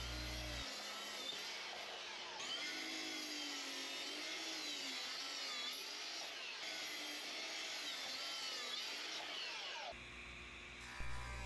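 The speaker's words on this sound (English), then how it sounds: "The first step was to break it down into shorter 20-inch boards." A power saw cuts a 10-foot length of planed 4/4 walnut, six inches wide, into shorter 20-inch boards in a woodshop. The steady whine runs for about ten seconds, then drops to a quieter hum.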